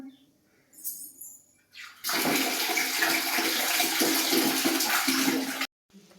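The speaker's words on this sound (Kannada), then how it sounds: "ಸ್ನಾನ ಮಾಡ್ತಿ?" Water runs steadily and loudly into a bath for a few seconds before stopping abruptly, after quieter indoor sounds and faint movement.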